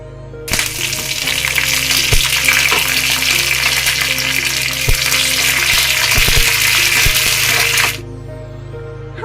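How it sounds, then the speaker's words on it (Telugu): Urad dal, mustard seeds, dried red chillies, curry leaves and asafoetida tempered in hot oil for a chutney, a loud steady close sizzle with a few clinks of stirring, cutting off abruptly near the end. "తాలింపు పెడుతున్నాను కొంచెం మినపగుళ్ళు ఆవాలు రెండు ఎండుమిర్చి కరివేపాకు కొంచెం ఇంగువ"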